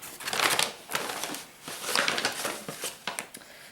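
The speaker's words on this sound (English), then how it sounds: "sorry for the crinkling" Packaging crinkles close up as yarn is handled, a run of bright, irregular crackling bursts and crumples with brief pauses between them.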